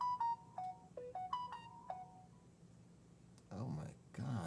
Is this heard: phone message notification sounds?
yes